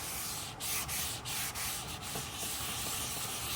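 A cloth with cleaner rubs across a white interior surface to lift fingerprints, giving steady close scrubbing strokes in a gentle repeating rhythm with brief pauses, and no voices.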